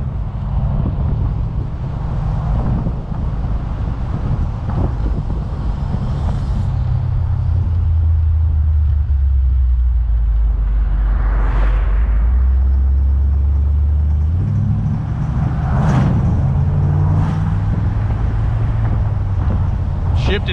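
A car engine runs steadily during a slow circle of a parking lot, a continuous low rumble with some wind noise on the microphone and a few brief higher sounds, while a person talks over it.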